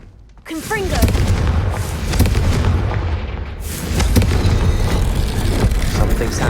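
A Confringo fire-blast spell goes off in Hogwarts Legacy, a loud burst followed by sustained rumbling booms and crackle, with a second swell of blasts midway, mixed with game sound.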